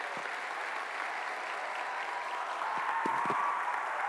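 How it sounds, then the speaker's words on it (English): A large conference audience at an innovation conclave's closing session keeps up sustained applause, a dense, even wash of clapping from a distance that swells slightly toward the end, with a few brief voices. "Give me a big round of applause."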